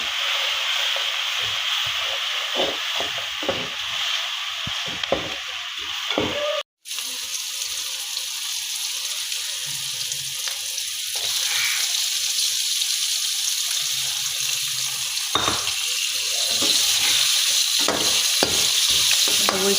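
Egg bhurji with red chilli frying in a pan while being stirred, with a constant loud sizzle and scraping stirs over about twenty seconds, broken once by a brief silent gap.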